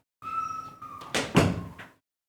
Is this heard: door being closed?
yes